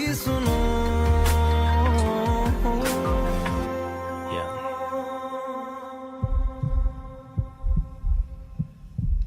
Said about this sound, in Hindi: धड़कनों की सुनो।